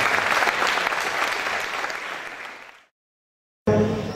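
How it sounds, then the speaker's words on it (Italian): A bookstore-event audience gives sustained, dense applause that stays loud for almost three seconds and then fades out. After a short silence, a brief loud burst of sound cuts in. "veramente inviterei a fare un applauso agli amanti dei libri"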